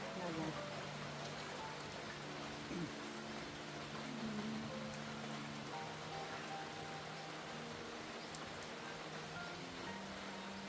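Steady rain falling outdoors, a constant dense hiss going on without a break, with faint voices and some low tonal sounds mixed in under it.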